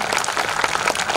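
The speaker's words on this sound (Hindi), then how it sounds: "एक बार और मिलकर के तालियां बजाइए।" Audience at a kavi sammelan (poetry gathering) in Nanded claps together, a loud, dense and even burst of applause from many hands, close and without talk.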